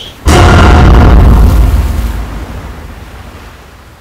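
A heavy ocean wave crashes suddenly and loudly close by, then its roar washes out and slowly fades over several seconds, with no voices.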